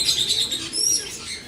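Assorted small birds chirp and tweet continuously in a Kerala bird shop, a busy overlapping chorus of high, bright calls with occasional wing flutters and pigeon coos, close by and steady with no talking.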